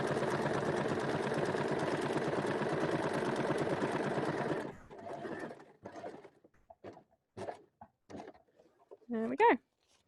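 Sewing machine stitching thick fabric for a streetwear garment, with a steady fast mechanical whir for several seconds that then stops, followed by a person talking.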